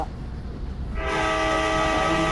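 A steady, sustained video-game train horn blares and holds as the train exits a tunnel in Indian Bike Driving 3D, rising in over a continuous low rumble of rolling wheels.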